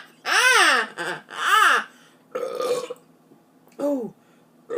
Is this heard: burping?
yes